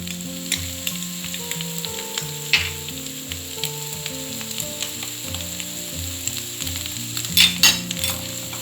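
Carrots and Marmite sautéing in a pan for fried rice, with a steady close sizzle and repeated spoon scrapes and light clinks of stirring throughout, while soft music plays underneath.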